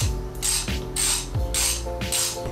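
A ratchet tightens a nut on a Vance & Hines exhaust being fitted to a Harley-Davidson Iron 883, clicking in four even back-and-forth strokes, close and clear with no talk.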